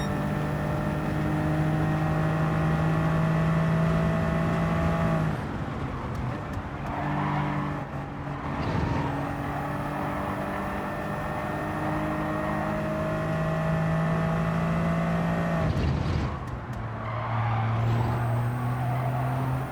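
Toyota GR86-style GT Cup race car engine in Gran Turismo 7, a loud steady drone with sweeping pitch changes as it shifts and revs through corners, lifting briefly around downshifts before climbing again.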